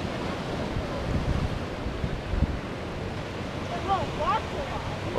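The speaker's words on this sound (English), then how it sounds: "look at these waves coming in" Ocean surf rolling in on a cold shore near the Hampton River bridge, a steady broad wash of waves mixed with wind rumble on the microphone, with a brief voice near the end.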